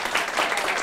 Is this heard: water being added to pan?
no